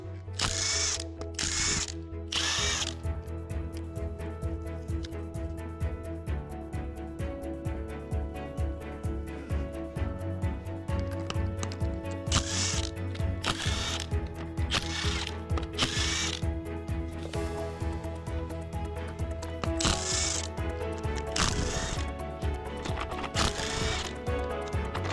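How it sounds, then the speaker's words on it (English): Bolts are taken off the bearing caps and bearing housing of a KS series pump during disassembly, giving a steady ratcheting, mechanical clicking and tool noise that runs throughout with no talk. "Bolts on the bearing caps and bearing housing are removed."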